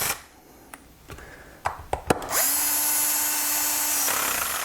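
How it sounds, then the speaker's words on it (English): A power drill fitted with a socket spins up after a few clicks and knocks, then runs steadily at a high whine for about two seconds, close by, during repair of a HIblow HP80 air pump. "put my socket on it. Got my drill set."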